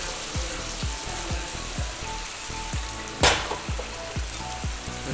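Korramenu fish curry bubbles and sizzles in its gravy in a shaken pan, a steady frying hiss broken by regular low thuds as the pan is jolted roughly every half second, with one sharp clatter midway.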